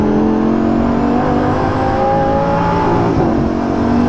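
A Lamborghini Gallardo LP550-2 engine revs steadily and loudly while driving at night, a continuous close roar with rising and falling pitch and no break.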